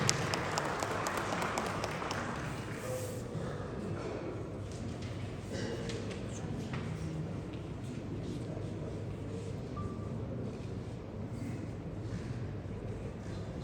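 An audience claps steadily, a dense patter of applause that holds throughout without fading.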